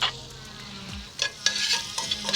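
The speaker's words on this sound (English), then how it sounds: "I'm going to cut that heat. Add my butter." Butter melting and sizzling in a hot Matfer Bourgeat carbon steel pan after bacon, with steady frying crackle and a few louder stirring scrapes and pops, close and alone.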